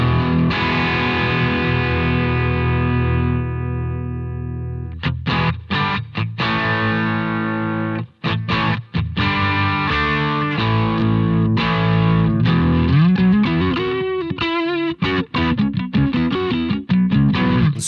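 An overdriven electric guitar through a Boss IR-2 Tweed amp emulation and a valve power amp rings out a sustained chord, then chugs through choppy riffs and bends, loud and close with a warm, gritty tone.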